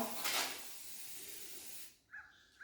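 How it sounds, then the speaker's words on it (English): An aerosol can of heat-detection paint sprays onto a cow's rear end during an artificial insemination demonstration, a steady close hiss lasting about two seconds, followed by faint higher-pitched sounds as it stops. "you just spray the rear end of the cow"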